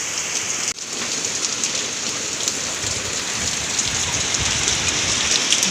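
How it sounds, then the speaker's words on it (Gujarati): Heavy monsoon rain pours down steadily in Gujarat, a dense, loud, continuous hiss of drops striking surfaces close by, with no voices. "વરસાદ એવું આવે છે ભાઈ"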